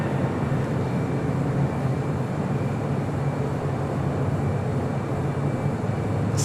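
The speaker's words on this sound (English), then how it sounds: "This is the China Southern Cargo 777 coming in from Anchorage." A China Southern Cargo Boeing 777 landing at LAX after a flight from Anchorage, a continuous broad jet roar, fairly loud and even throughout.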